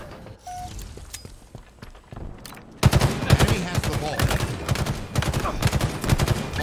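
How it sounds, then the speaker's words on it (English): Gunfire crackles in the Halo Infinite video game: sparse scattered shots give way to a sudden loud burst of rapid automatic fire that continues in dense, repeated volleys. "Stop shooting me in the back."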